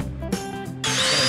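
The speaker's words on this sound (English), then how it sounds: "Gotta drill the skull so I can put the feet, the legs in there" A power drill bores into a dollar store plastic skull in a short burst, the motor whirring up and then jumping to a louder, higher grinding as the bit bites.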